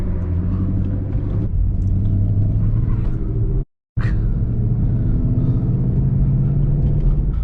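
An 800-horsepower Shelby being driven normally on the road, a steady loud low engine rumble and drone throughout with a brief dropout partway through.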